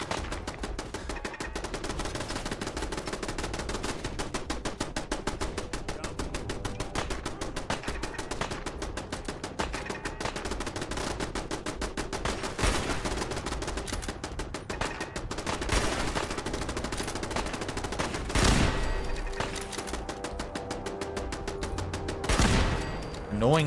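Automated turrets in Fallout 4 firing dense, rapid bursts of gunfire almost nonstop, loud and close, with a few heavier blasts standing out late in the sequence.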